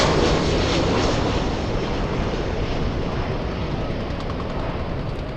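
A United Airlines plane at Los Angeles International Airport gives a steady, loud broadband jet roar that holds for the whole stretch and eases off slightly toward the end, with no voices over it.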